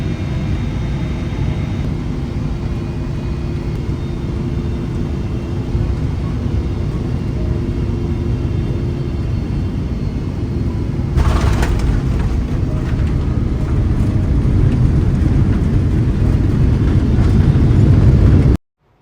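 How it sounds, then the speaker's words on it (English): Singapore Airlines airliner landing in Hong Kong, a steady loud cabin rumble of engines and airflow that grows rougher toward touchdown before cutting off abruptly. "The landing was a bit bumpier than the takeoff, although that's to be expected."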